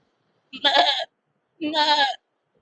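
A voice imitates a goat bleating, giving two separate nasal, quavering bleats, each about half a second long, close and loud with a brief silence between them.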